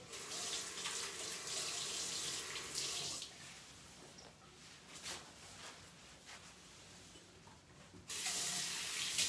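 Water running from a tap in a steady rushing stream, loud at the start, easing to a softer flow in the middle, then surging strongly again near the end, no voices.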